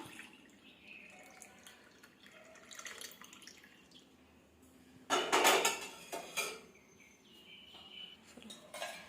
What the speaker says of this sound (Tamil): இந்த மாதிரி ஒரு பவுலில் ஊற்றிக்கலாம்.